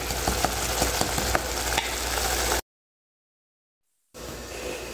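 Steady sizzling of onions and tomatoes frying in a pan with a few stirring clinks, cutting out abruptly to silence before the sizzle returns.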